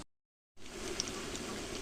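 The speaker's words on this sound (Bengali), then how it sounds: "এই যে এখন বেগুনি ভাজতেছি" After a brief silence, a steady crackling sizzle of eggplant fritters frying in hot oil, close and continuous with no talking.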